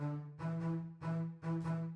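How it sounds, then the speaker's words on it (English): A staccato cello-style bass riff in a grime beat, three short punchy bowed phrases with a steady low fundamental, each note clipped off sharply, loud and alone. "I also added like a staccato type cello bass"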